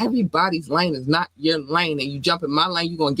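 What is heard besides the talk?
No distinct noise like a dog, phone or traffic.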